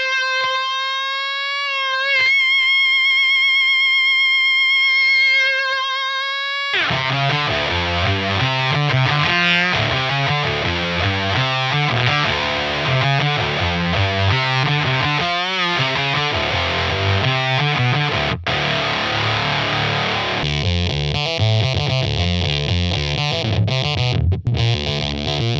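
Electric guitar played through a Fredric Effects Super Unpleasant Companion octave effect pedal: a few seconds of clean, ringing sustained notes, then loud, thick, buzzing octave-fuzz riffing that continues without pause, close and alone with no talk.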